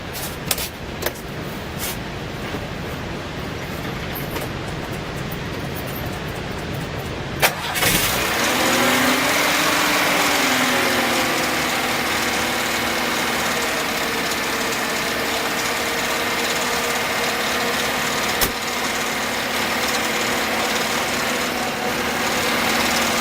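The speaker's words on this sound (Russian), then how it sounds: "подсоса накачал и сейчас буду заводить." A stone-cold VAZ car engine with a knocking fault is choked and cranked, catching after several seconds with a sharp roar, then settling into a steady, loud, close idle that runs uninterrupted.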